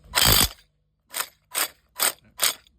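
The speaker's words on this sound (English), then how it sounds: "So we got the little impact wrench." Short bursts from a small impact wrench working a bolt on a KLX140 clutch cover: one longer burst then four brief rattling bursts at a steady rhythm, close and fairly loud, with no talk.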